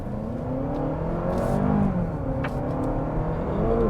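A 2023 Honda CR-V Hybrid, with two electric motors paired to a 2-liter engine, pulls away and accelerates, giving a steady, smooth engine and motor hum with rising whir that stays close and continuous.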